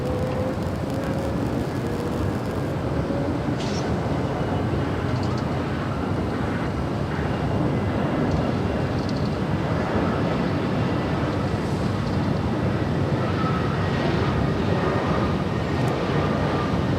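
An Alaska Airlines Airbus A320 arriving at LAX, heard as a continuous broad roar of jet engine noise that stays loud and steady throughout, with a faint rising whine early on and no clear pause.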